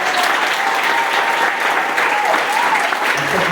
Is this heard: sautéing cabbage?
no